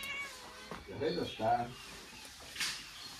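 A cat meows twice in quick succession, close and clear, followed by a short breathy sound, over a quiet room background.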